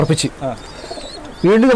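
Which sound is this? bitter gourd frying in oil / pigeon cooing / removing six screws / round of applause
pigeon cooing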